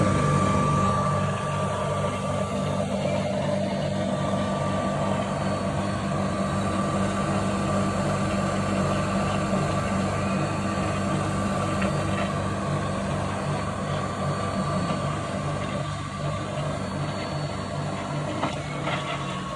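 A rare direct drive rotary cup oil burner with worn bearings runs steadily, a fairly quiet, even hum and airy rush of blown air with a low mechanical drone that stays constant throughout.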